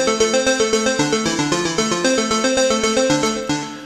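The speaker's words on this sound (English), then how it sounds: "the first thing you'll notice in this song is this intro keyboard part" Synthesizer intro keyboard part of a song: a bright, layered synth plays a steady rippling arpeggio of evenly pulsed notes, loud and alone with no voices.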